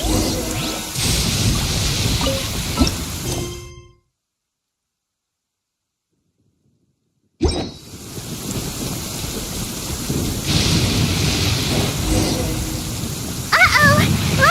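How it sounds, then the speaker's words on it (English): Heavy rain with rolling thunder during a lightning storm in Genshin Impact, a loud dense wash that drops to full silence for a few seconds, then returns with a sharp crack and continues, with some talk over it. "Uh-oh! Lightning storm!"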